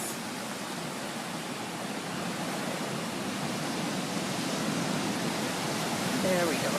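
Ocean waves crashing against rocks on the Costa Rica coast, a loud, continuous broadband roar of surf and spray that swells slightly toward the end, with no clear speech.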